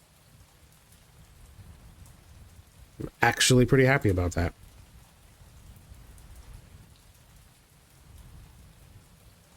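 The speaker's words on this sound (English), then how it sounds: "Oh, and it's still raining, too." Steady rain patters continuously in the video game Mon Bazou, a soft even hiss throughout, briefly interrupted by someone speaking in the middle.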